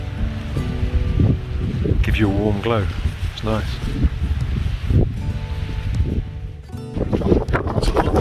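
Strong wind gusts at a campsite rush across the microphone in a steady roar, with a person speaking briefly over them and a faint tonal whine near the end.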